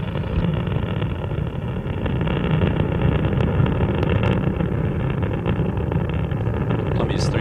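Space Shuttle Columbia's three main engines roar during the STS-83 launch while being throttled back, a steady, muffled, distant broadband rumble with a voice talking over it.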